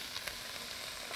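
Chicken pieces frying in a pan give a steady, close sizzle with a few brief crackles and no talk over it.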